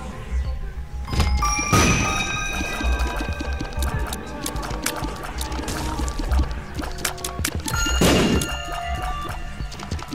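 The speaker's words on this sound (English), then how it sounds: "Well, the explosion killed it." Explosions in The Binding of Isaac: Rebirth: two loud crashing bursts several seconds apart over a busy bed of game effects, dings and music.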